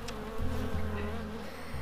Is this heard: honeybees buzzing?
yes